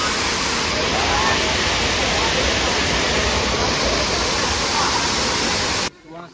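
Areekkal waterfall in Kerala pours in a loud, constant, close roar of falling water that fills the scene, then drops away abruptly at the end.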